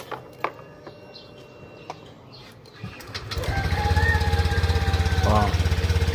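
A Honda Click 125 scooter engine, freshly overhauled after an oil issue, starts after a few seconds of faint outdoor background and settles into a steady, close, pulsing idle.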